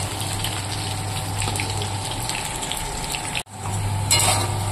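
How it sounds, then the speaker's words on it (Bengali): Potato pieces frying in hot oil in a home kitchen, a steady broadband sizzle with a low hum running under it, interrupted by a brief break before resuming. "তো আলুগুলো আমি একটু লাল লাল করে ভেজে নেব।"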